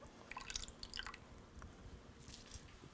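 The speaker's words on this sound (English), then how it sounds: "we're just simply going to wring the fine bulgur wheat from the water and toss it into the grated onions" Water drips and splatters in small irregular bursts as soaked fine bulgur wheat is squeezed out by hand in a kitchen. The sound is quiet and close, with no speech.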